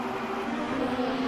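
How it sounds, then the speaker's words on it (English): A race car in an rFactor racing sim passes the pits, a steady engine drone that holds without a clear rise or fall. "As Robin Taylor, you can hear him going by the pits."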